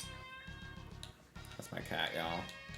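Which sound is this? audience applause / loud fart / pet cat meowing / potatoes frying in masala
pet cat meowing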